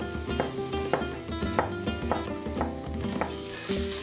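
Chorizo sizzles in a hot pan while a utensil stirs it, giving a constant close crackle broken by regular scraping strokes about every half second, with no one talking.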